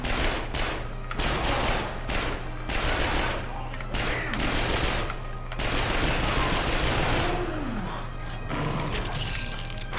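Gunfire aimed at the player in The Darkness II, repeated loud volleys and bursts arriving in clusters, with breathy gasps mixed in.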